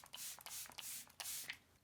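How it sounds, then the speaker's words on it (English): A MAC Fix Plus setting spray bottle is shaken and then misted over the face in several short, quiet hissing bursts separated by brief pauses. "So I'm gonna give that a shake and then just spray the entire face."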